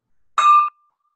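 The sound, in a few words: bell ringing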